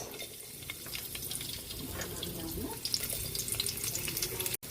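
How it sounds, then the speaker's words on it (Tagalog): Garlic and onion sautéing in a pan with a steady close sizzle and occasional stirring scrapes, with a light watery texture underneath. "Magigisa na tayo. Lagyan na natin yung bawang."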